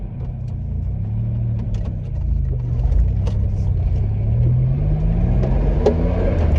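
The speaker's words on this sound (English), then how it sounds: "I'll start her up and off we go." A Ford Capri Injection Turbo engine, about 35 years old, rumbles steadily, rising and falling in pitch as it revs and pulls away, loud and close throughout.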